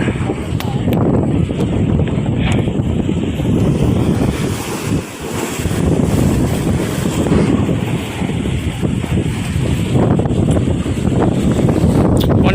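Strong wind on a beach where a ship has run aground buffets the microphone with loud, rumbling gusts over a constant roar of pounding surf, continuous throughout.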